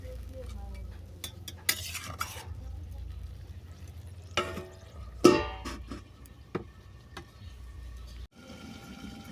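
Pumpkin and potato curry stirred in a pan, a spoon scraping and clinking against the metal in irregular strokes over a low simmering hiss, with a few sharper knocks midway and no talk.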